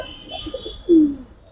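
A Giribaz pigeon gives one short, clear coo close by, rising out of a quiet background of faint chirps and room noise.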